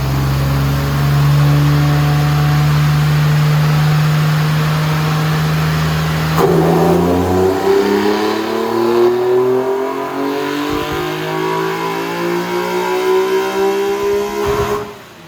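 A BMW 318ti with an S54 engine holds a steady high idle tone, then the revs climb in a long sweeping pull toward the rev limiter, loud and close, with brief stutters near the end.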